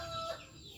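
A chicken clucks faintly and briefly in a short burst, with no talk over it.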